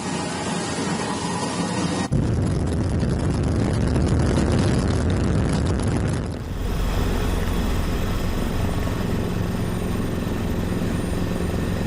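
A steady, loud helicopter roar with rapid rotor chop fills the whole clip, close by, with no voices: an Indonesian Air Force helicopter carrying aid over flooded, isolated areas near Sibolga.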